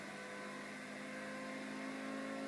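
A car engine roars steadily with the throttle held open in a racing video game, a faint, sustained drone with no gaps.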